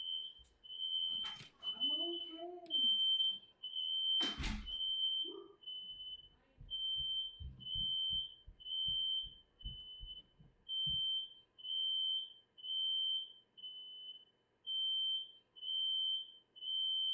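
A smoke alarm set off by burning incense beeps in a steady regular rhythm, loud and piercing in a quiet room, after a few brief thumps and a short voice at the start.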